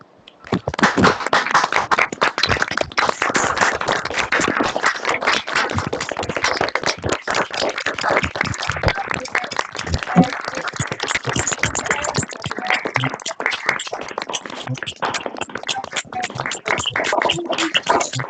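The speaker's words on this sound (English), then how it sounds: "The team will now unmute and we will applaud for the wonderful presentation by Dr. Mohan." Applause from an online audience unmuting after a presentation on good health by Dr. V. Mohan, a dense, steady patter of clapping that carries on for the whole stretch with no talk over it.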